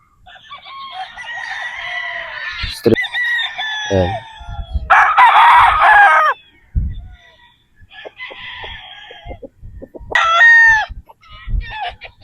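Gilmore Hatch and Boston Roundhead gamefowl roosters crow loudly and near in several drawn-out calls, with clucking and scattered farmyard noise between them.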